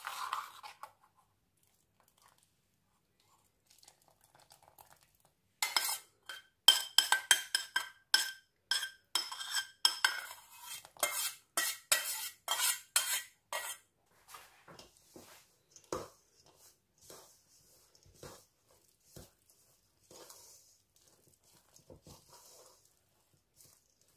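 Petit four dough being mixed by hand in a bowl, made with low-fat butter and biscuit, giving quiet clinks and scraping taps that come in a dense burst, then sparser and fainter.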